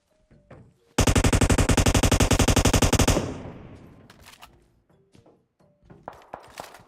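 Gunfire in a battle royale video game: a loud sustained burst of rapid automatic fire for about two seconds, trailing into echo, followed by scattered softer shots and thumps.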